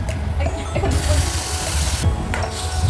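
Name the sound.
hot water poured into upma mixture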